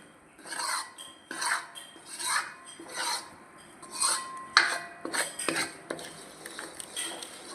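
Wheat flour is stirred and roasted in ghee in a pan, giving a steady series of close metallic scrapes from the spoon, roughly one every second, with a soft background hiss.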